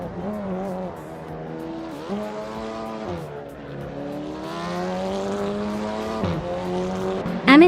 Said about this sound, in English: Amundsen is leading in a 2018 Peugeot 308 from the TCR class style